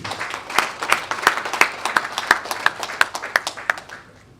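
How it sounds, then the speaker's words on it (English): A small audience at a Learn Africa event claps, the individual hand strikes sharp and distinct in a brisk, loosely rhythmic patter that thins out and stops after about four seconds. "Another round of applause for him"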